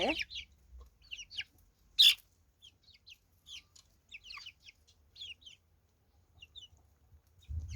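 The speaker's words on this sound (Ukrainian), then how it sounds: "Ось наш півник" A young rooster's soft clucks and chirps come in scattered short bursts, fairly close, with brief rustling and a sharper call partway through.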